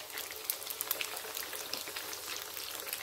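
Thai fish cakes (tod mun pla) shallow-frying in oil that only partly covers the patties, giving a dense, steady crackling sizzle, close and continuous with no voices.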